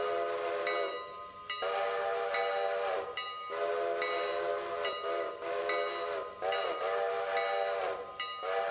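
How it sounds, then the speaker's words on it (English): Locomotive whistle in the Railroader train game sounding in a series of long sustained blasts with short gaps, steady and prominent over faint rail rumble. "H or shift H to blow whistle high or low"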